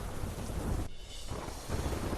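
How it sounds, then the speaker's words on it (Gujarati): Heavy monsoon downpour around Majivana village, a loud, dense wash of rain with low thunder rumbling beneath it, briefly easing before surging again. "મજીવાણા ગામ આસપાસ ધોધમાર વરસાદ"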